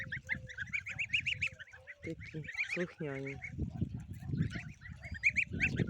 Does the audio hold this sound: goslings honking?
yes